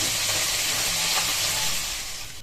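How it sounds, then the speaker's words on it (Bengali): Fish rubbed with salt and turmeric frying in hot oil in a kadai at home, a steady close hiss and sizzle that holds evenly and fades slightly at the end. "এখানে হচ্ছে মাছগুলো ভাজতে দিয়ে দিলাম"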